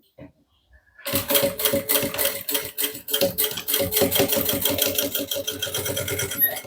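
A sewing machine stitches a zipper onto the body of a bag, running in a steady rapid mechanical whir after a brief quiet start and staying close and loud to the end.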